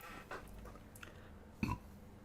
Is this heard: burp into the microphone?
yes